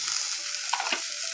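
Cumin, mustard seeds and urad dal sizzling in hot oil for an aloo curry, a steady close hiss with faint crackles.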